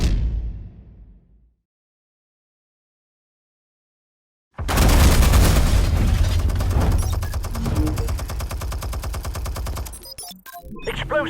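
Batman gunfire after an order to fire: after a few seconds of silence, a loud, dense burst of rapid automatic fire and impacts erupts and continues, close and intense, with mechanical clatter at the end.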